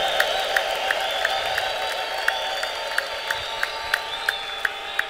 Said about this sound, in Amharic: ልልታ ጭብጨባ ለኢየሱስ ክብር ያምጣለት